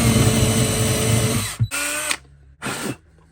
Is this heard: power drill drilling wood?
yes